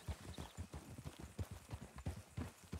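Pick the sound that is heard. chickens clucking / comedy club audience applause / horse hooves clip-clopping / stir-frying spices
horse hooves clip-clopping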